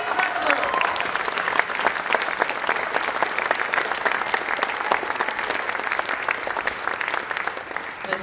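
A jazz concert audience at a college applauds steadily, an even, fairly distant wash of clapping that holds throughout without a break.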